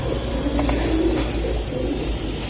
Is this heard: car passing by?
no